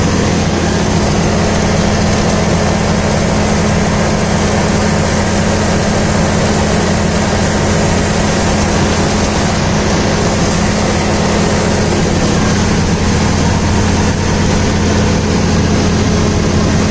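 A Deutz-Fahr 80 HP tractor engine runs steadily while powering a banana mulcher through the PTO, a loud continuous drone with a low hum and no talking.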